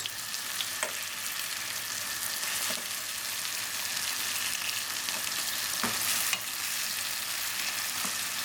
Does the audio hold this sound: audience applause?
no